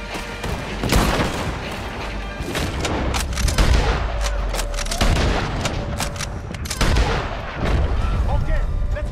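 Repeated gunfire and heavy booming shots in a Red Dead Redemption 2 shootout at a tower, loud sharp bursts spread irregularly across the scene with rumbling low-end impacts and voices mixed in.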